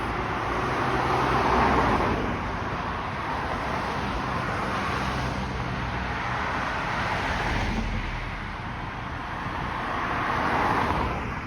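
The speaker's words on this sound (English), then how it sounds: "there are more cars coming from the south heading north" Steady stream of cars passing on Victoria Park Avenue in Toronto, heard from the roadside at a crosswalk as a continuous traffic roar that swells and eases as vehicles go by, no voices.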